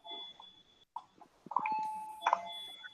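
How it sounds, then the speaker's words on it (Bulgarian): A phone ringer chimes with a short melodic electronic tone amid quiet classroom sound in an electricity lesson, moderately faint and brief, with a voice murmuring nearby. "Това моя звънец ли звъни?"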